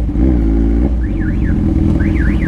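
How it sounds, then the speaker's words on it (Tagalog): Car alarm wailing on a street in Nueva Ecija, heard from a Kawasaki Z1000R motorcycle with a wet engine: repeated rising-and-falling electronic warbles in short bursts over the bike's loud, steady low engine rumble. "Nag-alarm pa yung sasakyan."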